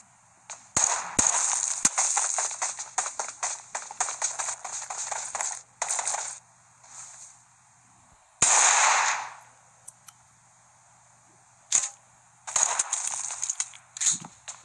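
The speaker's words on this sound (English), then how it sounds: "I hear gunshots very close to me" Bursts of sharp gunfire in the video game PUBG crackle in rapid clusters, some loud and close, separated by short quiet gaps, with a faint steady hum underneath.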